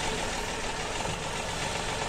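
Old tractor engine from a video game running steadily, a continuous dense rumble with a rough, knocking idle character, loud and close with no voices.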